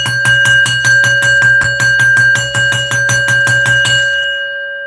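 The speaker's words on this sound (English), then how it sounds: "Ring that bell, and I want that bell rang." A bell rings in rapid, evenly spaced loud strokes for about four seconds, then stops and its ringing tone decays.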